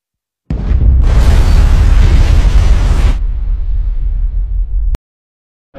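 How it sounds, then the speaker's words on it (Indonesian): A huge bomb goes off in the Kaiju No. 8 anime, a sudden loud roaring blast with a sustained rumble that fades into lower noise before cutting off abruptly. "Mina lalu menyuruh semua orang untuk menunduk dan menggunakan perisai, dan ledakan dahsyat pun terjadi"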